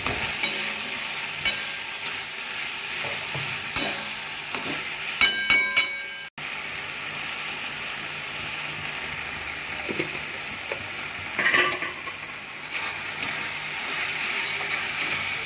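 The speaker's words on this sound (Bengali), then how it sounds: "মশলাটা দেওয়ার পরে একটু ভালো মতন কষিয়ে নিতে হবে" Mutton stir-fried with spices in a pan gives a steady sizzle with repeated scraping and stirring strokes and occasional clinks, close and fairly loud, with no voices.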